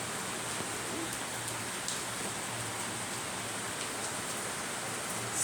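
Steady rain falls outdoors with an even, close hiss of drops across the whole stretch. A few faint taps break through, and nobody speaks.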